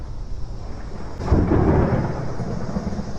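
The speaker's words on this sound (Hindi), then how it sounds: "सिर्फ बारिश की आवाज आ रही है।" Thunder rumbles in from a quiet start and swells into a loud, low roll over steady rain falling outside a hut at night, then fades back to a constant wash of rain.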